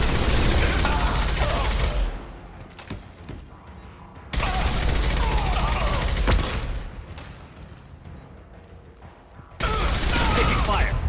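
Gunfire in Mass Effect 2 comes in loud, dense bursts separated by quieter gaps with sharp impacts, while a voice talks over the action.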